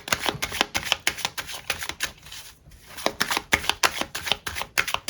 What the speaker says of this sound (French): mélanger les cartes.